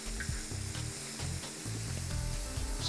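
Fish finger strips frying in hot oil, a soft bubbling sizzle with faint clatter underneath, steady and close for a few seconds.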